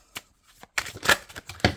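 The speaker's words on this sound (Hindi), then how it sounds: "सारे कार्ड्स गिर गए।" Playing cards spill and clatter during a tarot-style card reading, a quick burst of papery slaps and shuffling at close range after a faint opening tap, several crisp impacts in succession.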